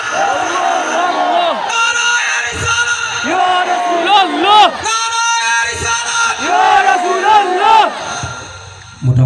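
A crowd shouts in unison at a religious gathering, a loud, sustained chorus of massed voices rising and falling in long chanted calls, close and filling the space throughout.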